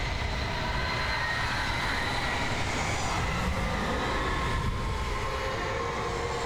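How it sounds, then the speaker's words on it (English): A tornado roars in the video game Alan Wake, a loud, steady, broadband rushing wind that stays constant and close throughout, with a low rumbling churn beneath it and no talking. "That is a tornado."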